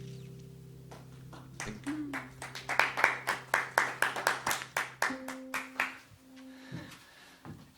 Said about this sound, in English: It's thunderous applause